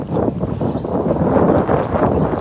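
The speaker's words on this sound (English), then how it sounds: "it's windy as hell here" Strong outdoor wind gusts buffet the microphone in a dense, roaring rumble that swells and dips continuously for a couple of seconds, loud and close, with no clear speech.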